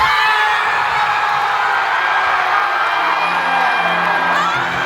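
A large Olympic crowd cheers after an overtime goal for Team USA, a loud, sustained roar of shouts and whoops that carries on without a break.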